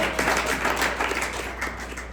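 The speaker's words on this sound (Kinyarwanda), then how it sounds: "Please clap for him." Church audience in Ottawa clapping for a man named Gatore, a brief, steady burst of applause from a modest crowd, moderately loud with no talking.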